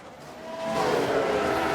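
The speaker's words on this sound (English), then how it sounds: "Sounds like a spin." A race car spins out and skids during a race in the F1 Manager 22 video game, running a 1992 Ferrari season: a loud engine and tire roar that swells after a brief quieter start and stays strong.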